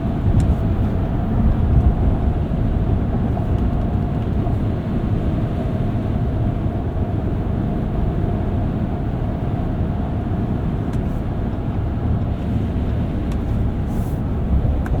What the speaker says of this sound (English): Very little wind and road noise and NVH on the highway in this truck.